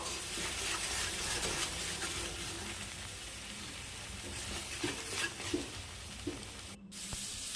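Tomato paste, chopped ginger, garlic and green chili are stirred in a hot pan of oil for Bengali chicken kosa. A soft, steady sizzle runs throughout, with faint scraping stir sounds and no voices.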